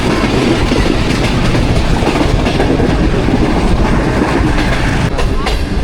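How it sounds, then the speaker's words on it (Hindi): Pakistan Business Express passenger train passing Drigh Road junction, heard from on board as a loud, steady rumble with continuous clickety-clack of wheels over the rails. "ट्रेन की दोस्तों ड्रिग रोड जंक्शन से पास हो रही है ट्रेन हमारी"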